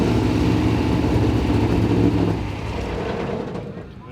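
Trophy truck engine running in neutral with a knock from the converter area, a steady loud rumble that drops and softens after about two seconds as it is shut down.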